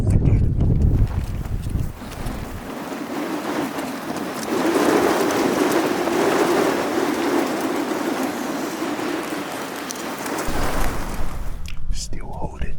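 High wind buffets a camping tent, giving a dense, roaring rush with rattling fabric that swells and holds for several seconds, while a voice speaks softly near the start and end.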